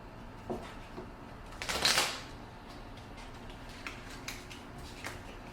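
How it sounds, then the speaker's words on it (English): Gloomhaven: Jaws of the Lion game cards get shuffled in a single quick, soft riffle lasting under a second, set against a quiet room hum with a few faint taps around it. "So then these get shuffled."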